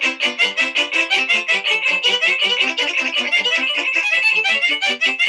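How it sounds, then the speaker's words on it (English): A Haydn piece played on a synthesizer at a slightly faster tempo, a steady stream of bright, rapid repeated notes whose parts drift away from the beat, loud and continuous with no talking. "the same piece by Haydn played on a synthesizer"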